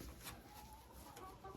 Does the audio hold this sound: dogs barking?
no